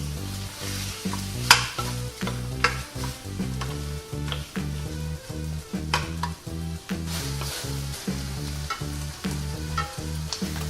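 Sausage and vegetables stir-fried in a pan with a honey, sugar and gochujang sauce, a steady sizzle broken by repeated rhythmic scrapes and clanks of the utensil against the pan, close and alone with no talk.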